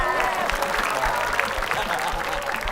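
Applause from an audience at a comedic monkey-mask show, a steady dense wash of clapping running throughout with some voices mixed in underneath.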